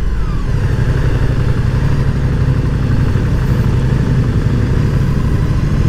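Moto Guzzi V100 Mandello 1000 cc motorcycle engine running in slow, congested traffic, a steady loud low rumble with a constant idle-like throb, close and continuous throughout.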